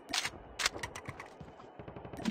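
Rapid bursts of video game gunfire crackle in quick clusters across a battle royale match, loud and close, with no talk over them.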